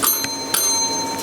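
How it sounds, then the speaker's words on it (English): A hand bell rung in a Michelin-starred restaurant kitchen, two quick bright rings with long shimmering metallic sustain fading slowly, close and alone. "I'm going to call him with my trusty bell."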